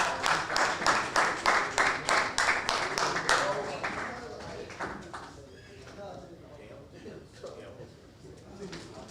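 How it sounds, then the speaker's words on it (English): Audience applause at a talk event, a burst of close, lively clapping that fades over several seconds into quieter room noise. "So listen, give yourselves a round of applause."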